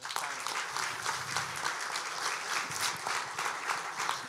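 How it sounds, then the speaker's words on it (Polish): Steady applause from a crowd at a Robert Biedroń political rally in Włodawa, Poland, many hands clapping continuously at a moderate distance, without a break. "Brawa."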